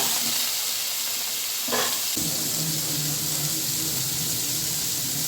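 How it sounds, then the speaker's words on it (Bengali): Potato pieces frying in hot oil, a steady close crackling sizzle, with a burst of louder sizzling as the potatoes go into the pan. "এখন আলুটাও ভেজে নেব"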